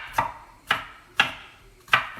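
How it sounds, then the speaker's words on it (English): A knife slices a jalapeno across a cutting board, four crisp close chops spaced about half a second apart, each a sharp snap with a short tail. "I want to cut it from the tip all the way to the stem in little slices across"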